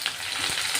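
Curry leaves crackle and sizzle in hot oil with mustard seeds, cumin and peanuts, a steady dense frying hiss with bright spitting pops, close and continuous through a short moment.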